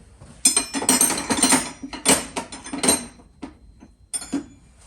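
A big metal spanner clanks and scrapes as it is fitted onto a bolt during drop-leg and petcock work, giving several sharp, close metallic knocks and rattles in bursts, with no talking.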